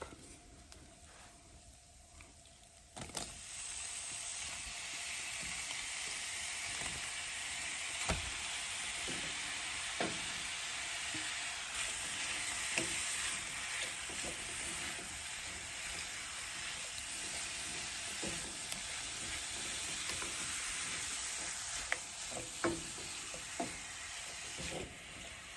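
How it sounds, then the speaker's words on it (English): Shrimp hit a hot pan with a sudden burst of sizzling, then settle into a steady, bright frying hiss with occasional pops and stirring clicks. "Now I'm going to go ahead and add my shrimp."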